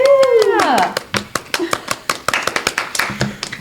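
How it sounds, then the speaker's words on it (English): A voice speaks briefly before an audience breaks into steady, close applause, many hands clapping in a quick uneven rhythm that carries to the end. "And can we all clap?"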